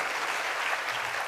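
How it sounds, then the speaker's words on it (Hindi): A brief burst of audience applause for a presenter, a dense, even patter of many hands clapping at moderate loudness with no talk over it. "एक बार जोरदार तालियां हो जाए"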